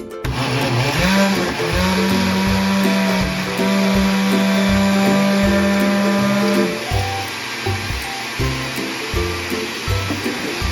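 A kitchen blender whirs through a pumpkin pie milkshake with ice cream and pumpkin spice, a loud steady motor whine with a churning, slightly pulsing drone that shifts pitch as the mixture loosens.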